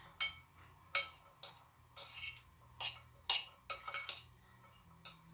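A spoon stirs a crispy corn mixture in a pan, giving about ten separate clinks and scrapes at an irregular, unhurried pace, close and fairly quiet.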